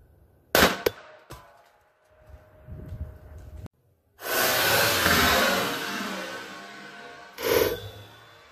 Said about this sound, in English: this was a 12 gauge mini slug we hit there and went completely through our air tank